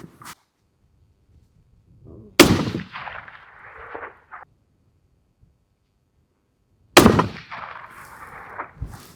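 Two loud rifle shots from a hunting cartridge with magnum-type recoil, fired at a 400-yard target through a scope, each a sharp blast followed by a decaying rumble and a faint distant impact, spaced several seconds apart with quiet between.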